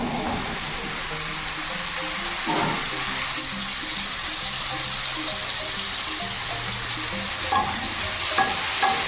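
Chhatu mushrooms fry in hot oil, a steady broadband sizzle with occasional stirring scrapes and clinks, close and continuous throughout.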